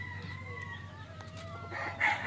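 A rooster, an ash-grey fighting cock with a white tail, crows with a long, drawn-out call, ending in a louder burst, over a steady low hum and faint background noise.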